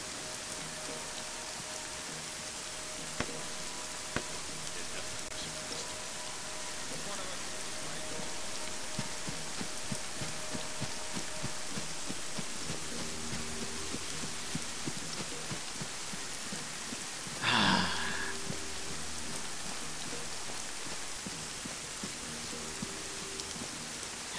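Steady rain patters down throughout in a military shooter game operation, a dense, even hiss with occasional faint clicks and a brief louder burst in the middle.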